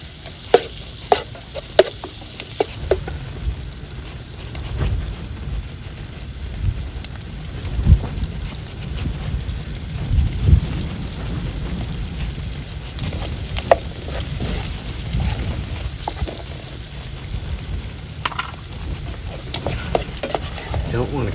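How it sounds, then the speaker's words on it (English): Italian sausage browning in a pan before gnocchi in sage and rosemary brown butter: a long, steady close sizzle with frequent sharp utensil clacks and scrapes, and no speech. "Don't want to cook this sausage all the way just yet. I just want to get it brown a little bit"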